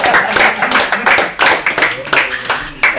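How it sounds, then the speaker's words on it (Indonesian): Hand clapping at a busy Surabaya angkringan street food stall, a scattered burst of claps with uneven rhythm, close by and mixed with lively talk and background chatter. "Tepuk tangan ya."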